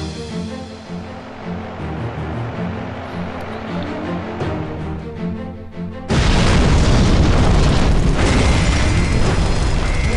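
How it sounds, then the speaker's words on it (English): A laboratory explosion from a defective gas pipe in a video game: background music gives way to a sudden, loud, broadband blast that becomes a dense, sustained roar. "A sudden explosion in the laboratory is caused by a defective gas pipe."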